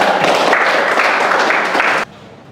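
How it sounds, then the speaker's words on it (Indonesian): Students in a classroom Islamic lesson clap together in a dense, steady burst of applause lasting about two seconds, then it stops abruptly and the room goes quiet. "silakan tepuk tangan."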